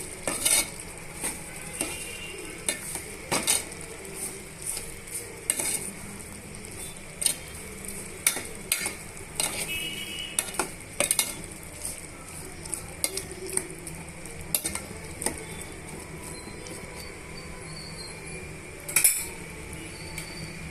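A spoon scrapes and clinks against a pan as spices are stirred into cucumber curry, quick irregular knocks and scrapes over a faint sizzle, close and fairly quiet.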